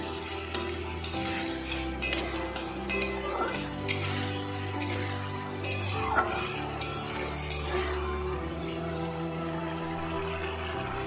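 Tomato dropped into spice masala frying in a pan for dahi paneer, with steady sizzling and repeated scraping stirs of a spoon against the pot, close and continuous with clinks of utensils.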